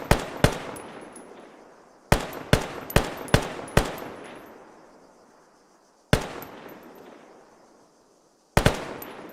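Rifle shots fired uphill during a video game squad training session, about ten sharp cracks in scattered single shots and quick clusters, each trailing off in a long echoing tail, with no talk.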